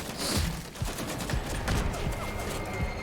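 Rapid SMG bursts and scattered gunfire crackle in a Vampire: The Masquerade multiplayer match, moderately loud, overlapping shots continuing through the moment without a voice on top.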